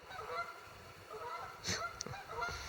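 Several geese honk at a distance at Lake Vesuvius, Wayne National Forest, Ohio, around 8 pm, calls overlapping irregularly, with a couple of sharper sounds nearby.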